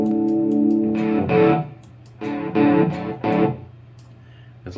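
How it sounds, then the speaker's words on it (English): An electric guitar plays through a Lekato PA-1 pocket amp on a dirty setting, with sustained chords and short strums smeared by heavy delay and reverb, close and alone with trailing echoes between phrases. "That's a lot of delay, a lot of reverb."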